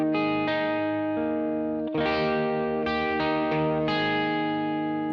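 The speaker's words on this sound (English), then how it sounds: "I put it between 2 and 3 in my guitar, and it sounds like this." Overdriven electric guitar through a Boss GT-100, with the guitar's volume knob rolled back to between 2 and 3, strummed chords ringing out in a slower rhythm, close and alone.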